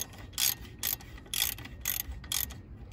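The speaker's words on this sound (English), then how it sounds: "tightening them up, getting them there into position with the ratchet" A ratchet with a 19 mm socket runs wheel spacer bolts into position on a Jaguar XFR, sounding as several quick bursts of crisp clicking close up with short pauses between strokes.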